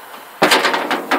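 An M35A3 military truck door shuts with a firm, close thud, followed by a few short rattling knocks.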